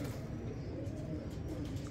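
A pigeon coos softly, low and rounded, over a steady murmur of background noise, with no clear speech.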